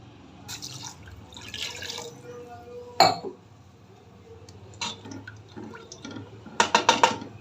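Glasses of water are poured into rice for chicken pulao, giving brief splashes and trickles with a sharp clink of glass near the middle and a quick run of clinks at the end.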